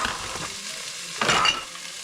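Frozen chicken sautéing in a pan for tinola sizzles and crackles steadily, close and clear, with a brief louder burst of spitting oil and stirring near the end.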